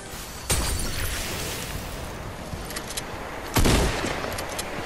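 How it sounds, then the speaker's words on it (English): Two loud bursts of gunfire from the new fire gun in the Fortnite video game, the first near the half-second mark and the second late in the clip, over steady background game noise. "No, it's the new fire gun."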